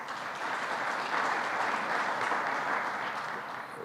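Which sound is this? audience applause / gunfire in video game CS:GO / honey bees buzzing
audience applause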